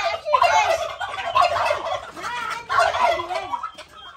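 A turkey gobbles on a farm where chickens and goats are kept: two loud, close, rattling bursts of gobbling with a brief lull between them and no talk.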